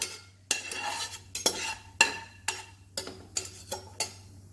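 Whole spices (cinnamon bark, cloves and cardamom) are sautéed in a pot for mutton biryani, with about nine sharp metal scrapes and clinks of a spoon stirring at a steady pace over a faint low hum.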